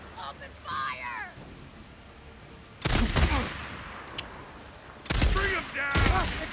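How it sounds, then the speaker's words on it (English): Gunfire rattles in Days Gone during a fight to clear an enemy camp. Two loud, noisy bursts cut through quieter stretches where voices call out. "Open fire!"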